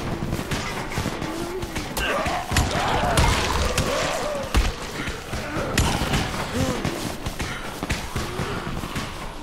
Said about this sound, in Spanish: Unos petardos.